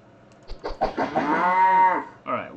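Cows lowing in a Unity-built video game, a few short grunting moos rising into one long, loud sustained moo, followed closely by another moo starting, all near and clear with no talk.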